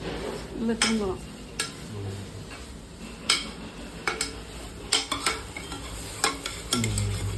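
Food is stirred in a frying pan, letting out a steady sizzle, with spoon and utensil scrapes striking the pan at irregular intervals. A brief voice is heard near the start.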